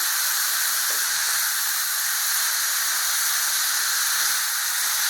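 Plantain, eggplant and drumstick pieces sautéing in a pan give a steady, dense hiss of sizzling that holds evenly throughout, close and loud, with no voices.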